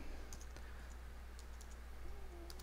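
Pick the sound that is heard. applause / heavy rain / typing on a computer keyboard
typing on a computer keyboard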